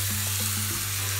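Broccoli dropped into a hot pan while shrimp and broccoli cook in oyster sauce, giving a steady, close sizzle and fry with a constant low hum underneath.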